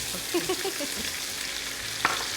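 Garlic and pimentos sizzling in hot vegetable oil for a Trini dasheen bush bhaji, a steady close frying hiss with faint stirring clicks and one sharp tap near the end.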